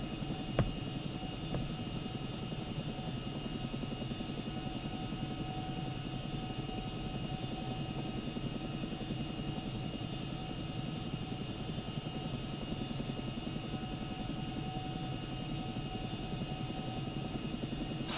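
Chinook twin-rotor helicopter settling down to land in the video game ArmA, a steady droning rotor and engine hum with a continuous whine, even and unbroken, moderately loud with no voices.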